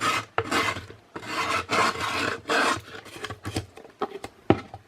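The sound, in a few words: sanding block or file rubbing cut oatmeal container edge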